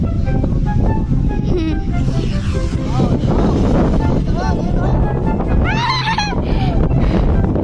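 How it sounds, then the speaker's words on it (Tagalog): Strong wind buffets the microphone in a steady roar in an open field while people talk and call out nearby. "malakas po ang hangin"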